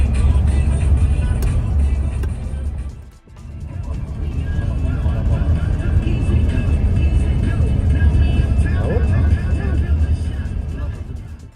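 Car driving toward the desert near Marrakesh, Morocco: a continuous loud rumble of road and engine noise from inside the vehicle, briefly dropping away near three seconds before resuming, with voices in the background.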